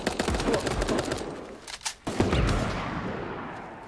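Gunfire in the video game SAR (Super Animal Royale): a loud, dense volley of rapid shots, then scattered cracks tapering into a fading rumble.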